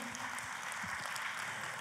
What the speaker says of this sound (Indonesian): Tepuk tangannya lebih meriah lagi